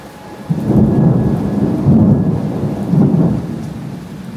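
Thunder rumbles in low, rolling swells through steady rain during a mountain shower around Mont Blanc, loud and close, with no voices.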